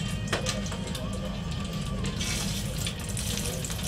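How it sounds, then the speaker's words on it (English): Water is poured into a hot pan of Polish pierogi frying in bacon grease, giving a steady close hiss and sizzle of liquid hitting fat that runs without a break. "because they've got the bacon grease and now I'm adding water, basically"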